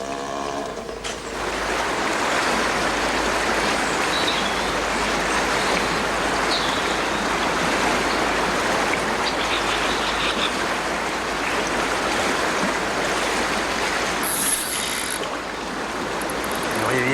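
River water flowing steadily in the French countryside, a loud, broad rushing wash that holds constant throughout, with faint mechanical clicks near the end.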